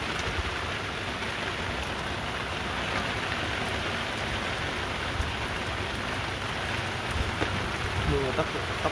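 Heavy rain pours down steadily outdoors by the water in the Mekong Delta, a loud continuous hiss and patter of drops on surfaces, with faint voices in the background.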